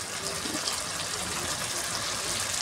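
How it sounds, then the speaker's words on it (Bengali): Water poured into chicken that has been sautéed almost dry, making a steady broadband gush that runs evenly for a few seconds with no speech. "আর জল দেবো, অল্প একটু জল দিয়ে একটু গেভি মাখা টাইপের করবো।"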